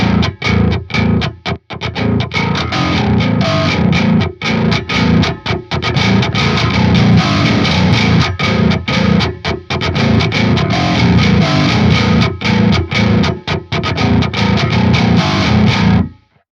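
Heavily distorted djent bass guitar, EQ'd with a 7-band EQ and amp-sim EQ section, plays tight, chugging rhythmic riffs with abrupt stops, loud and dense throughout.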